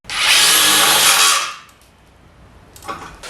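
A loud, buzzing burst from a Milwaukee impact driver driving a screw for about a second and a half, peaking around 89 dB, then stopping, followed by a faint brief rattle.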